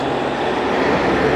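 A tram rolls along its track in Antalya, a steady, close, loud rumble with a dense metallic wheel-on-rail roar and no break throughout.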